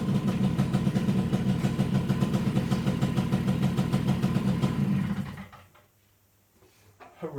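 Small single-cylinder engine of a Suzuki LT50A quad idling steadily up close, then cutting out abruptly and leaving near silence.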